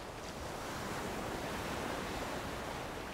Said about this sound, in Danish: Bølgerne de bryder i en 2-3 rækker her.